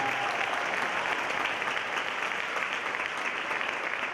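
A high school winter concert audience applauding steadily, a dense, even wash of many hands clapping without pause, fairly loud and sustained.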